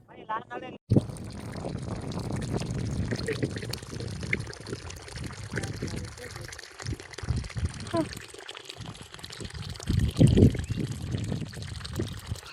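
Water pours and splashes from a tap at an outdoor spot while mango trees are being planted, a steady rushing flow close by, with people talking over it.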